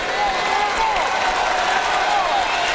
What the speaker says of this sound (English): The crowd here at US Air Arena in Landover, Maryland, enjoying it.